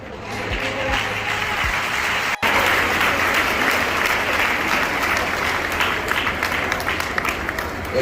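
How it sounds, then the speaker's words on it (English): A large audience at a formal Jamaican state gathering claps continuously in a dense, steady roar of applause that carries on throughout, with a few voices faintly mixed in underneath. "Keep on clapping."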